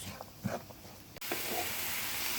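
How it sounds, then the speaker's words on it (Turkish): Chopped onion sizzles in hot oil in a pan for a meat pastry filling, a soft steady frying hiss that rises sharply partway through and stays constant, with a few faint clinks before it. "Ve bu şekilde soğanlarımızı ölene kadar kavuruyoruz."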